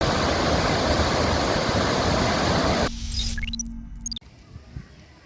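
Rushing water released from the Durgapur Barrage after heavy rain, about 70,000 cusecs, roars loud and steady for nearly three seconds, then gives way abruptly to a short chiming musical sting.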